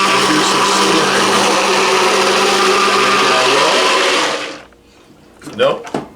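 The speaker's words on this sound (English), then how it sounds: "Very slow movements with your stick blender." Stick blender whirring loudly and steadily while emulsifying homemade mayonnaise for about four seconds, then cutting off, followed by brief talk.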